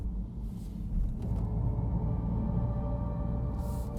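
Inside a Mercedes CLA electric car on the move, its synthetic "serene breeze" drive sound plays as a steady low hum and rumble, constant and fairly loud throughout, with no talking.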